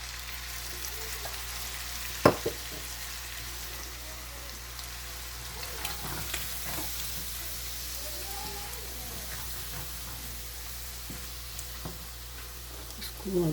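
Prawns and tomatoes fry for a karahi in a wok with a soft, continuous sizzle and a few stirring knocks and scrapes. A voice speaks over the cooking.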